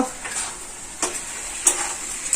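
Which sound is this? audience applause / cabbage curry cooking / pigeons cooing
cabbage curry cooking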